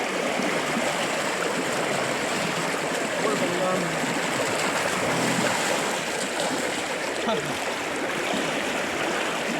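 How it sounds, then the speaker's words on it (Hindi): Fast-flowing river current at a holy bathing spot near Saptrishi Ashram, a loud, steady roaring rush of water heard up close throughout, with a voice faintly beneath it. "साथियों बहुत तेज प्रवाह है"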